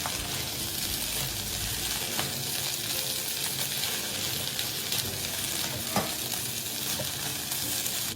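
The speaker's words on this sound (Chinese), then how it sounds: "快火、快速的将所有食材拌炒均匀" Cassava and palm sugar are stir-fried fast over high heat, tossed with two pairs of chopsticks. A dense, steady sizzle runs throughout, with a few faint clicks from the chopsticks and no voices.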